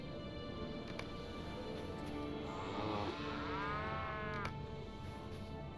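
Cattle mooing in the Lord of the Rings Online video game, a single drawn-out low moo rising in the middle of quiet ambient background, moderately near.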